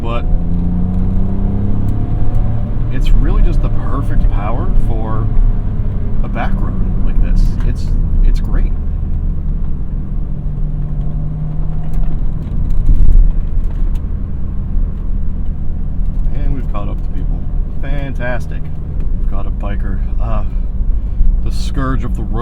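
A BMW M Coupe with the S52 inline-six rumbles steadily from inside the cabin while driving, with a swell of acceleration as it pulls to overtake; someone talks throughout over the engine.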